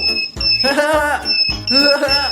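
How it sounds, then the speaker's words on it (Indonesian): An alarm going off inside a shop sounds as a steady high-pitched electronic tone that holds through the whole stretch, with voices and music layered over it. "Ini adalah alarm."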